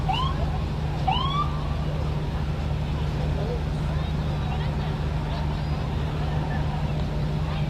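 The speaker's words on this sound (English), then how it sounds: "there is a fire truck with its lights and its sirens and the horn going" A fire truck siren wails in the distance with rising whoops during a Christmas parade in Thunder Bay, under a steady low engine rumble and continuous background noise.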